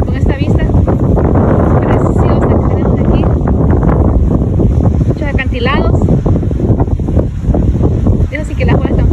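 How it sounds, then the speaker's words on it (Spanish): Strong waves pound the coast near Ensenada, Baja California, under heavy wind buffeting the microphone, a loud continuous roar with surges of surf, and a voice talks over it. "Eso sí que las olas están fuertes."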